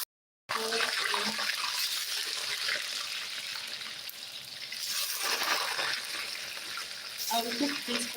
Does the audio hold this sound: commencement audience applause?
no